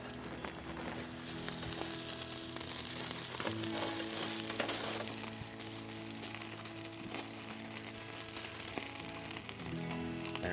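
Trout wrapped in tin foil cooks over heat with a steady, close sizzle and crackle. Soft popping ticks and a low hum run beneath it the whole time.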